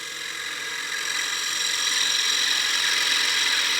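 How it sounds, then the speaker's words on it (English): A woodturning lathe spins as a bevel gouge cuts into a small wooden coin box, a steady motor hum with a rising, hissing shave of the tool that grows stronger and then holds evenly. "I'm going to start the cut again"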